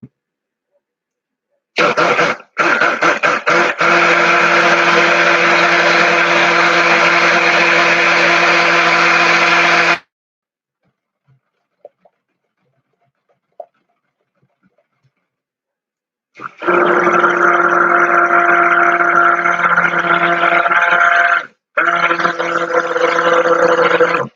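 A stick blender mixing cold process goat milk soap whirs loudly for several seconds, stops for a quiet pause, then starts again with a steady high motor buzz.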